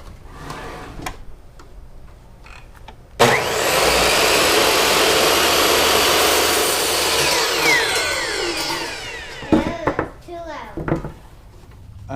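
A power saw bites into 3/4 inch thick wood with a sudden loud whining roar that runs for about six seconds before winding down, surrounded by scattered clicks and knocks of handling before and after.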